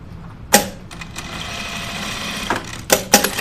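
A sewing machine stitches fabric with a steady whirring run, broken by sharp clunks near the start and a few more at the end.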